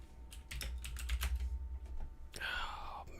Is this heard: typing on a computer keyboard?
yes